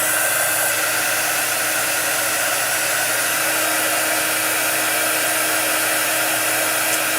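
A hair dryer blows close and loud in a constant, even whir, drying chalk paint without pause and drowning out everything else.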